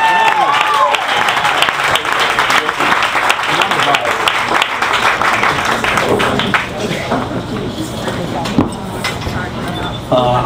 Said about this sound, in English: So they deserve a huge round of applause.